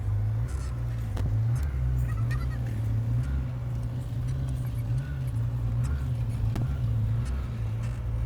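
A van engine idles with a low, steady rumble as it reverses, close by, with a couple of faint clicks over the constant hum.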